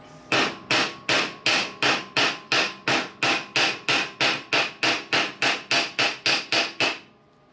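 A chipping hammer knocks burnt flux off a flux-core weld in about twenty sharp, evenly spaced metallic raps, close and crisp, at a brisk steady rhythm that stops abruptly.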